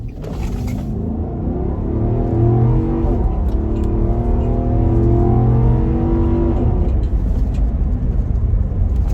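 A 2017 Nissan Armada Platinum SUV accelerates hard, its engine note rising in pitch across several seconds, loud and close with a steady low rumble beneath.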